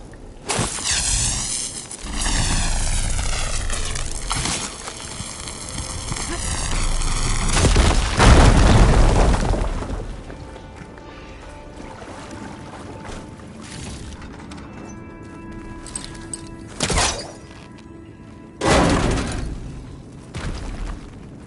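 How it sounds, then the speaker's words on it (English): A deep rumbling explosion as a fire gleam is blown up in Horizon Forbidden West, building to a heavy boom with crackling debris, followed by quieter rumbles, game tones and another sharp burst. "Should be able to blow up that fire gleam."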